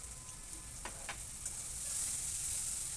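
Ginger and garlic paste frying in hot oil over softened onions for a tilapia fish head curry, a steady close hiss with a few soft stirring taps, building slightly louder toward the end, no voices.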